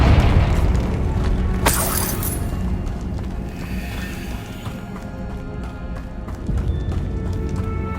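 A Confringo fire spell explodes in the game Hogwarts Legacy, a sharp bright burst near the two-second mark over a dense, steady bed of low rumbling game ambience.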